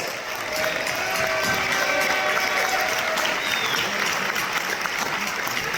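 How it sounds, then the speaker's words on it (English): Steady applause from an audience at a cigar launch evening in Cyprus, a warm, continuous wash of many hands clapping, fairly distant and even throughout. "Please join me in giving a warm round of applause"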